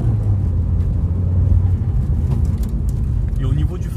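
A 180 hp Audi TT MK1 driving, its engine and exhaust giving a steady low droning rumble that holds level throughout, with someone talking over it.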